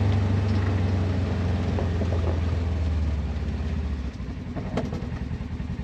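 A Polaris General UTV fitted with a Duraclutch CVT clutch pulls away smoothly, its low engine hum steady and close, then easing off as the machine rolls with a few knocks and rattles.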